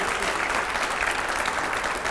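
Loud, steady applause from a studio audience at a televised panel discussion with a government minister and editors, dense clapping filling the whole moment without a break.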